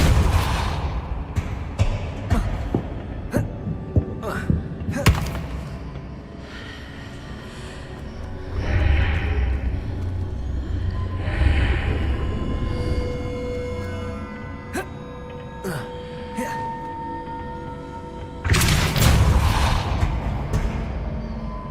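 Depulso spell effects in Hogwarts Legacy, a series of sharp magical blasts and booming impacts scattered over a continuous game soundscape, with a loud burst near the end and no talking.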